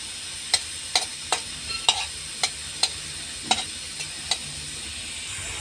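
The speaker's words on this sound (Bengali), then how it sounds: "এবারে আমি কড়াইয়ের মধ্যে দুটো শুকনো লঙ্কা দিয়ে দিলাম, আর একটু তেজপাতা এভাবে কুচি কুচি করে আমি কড়াইয়ের মধ্যে দিয়ে দিলাম।" Two dried red chillies and shredded bay leaf sizzle in oil in a wok under a soft steady hiss, punctuated by about ten sharp, evenly spaced scraping taps of a spatula, close up, without speech.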